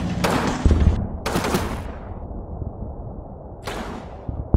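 Mortar and gunfire in the wartime strategy game Combat Mission Final Blitzkrieg: three loud, crackling bursts of fire, each trailing off into a rumbling decay.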